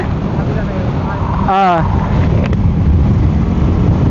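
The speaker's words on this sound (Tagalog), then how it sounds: "malakas yung hangin pero malamig" Strong wind roars steadily across the microphone while riding a KRV 180 motorcycle on a Taiwan road, a loud constant rumble with a voice briefly speaking over it.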